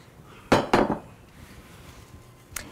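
Cooked crisp bacon, raisins and rolled oats tipped into a mixing bowl: two sharp clattering knocks close together, a quiet stretch, then one more brief clink.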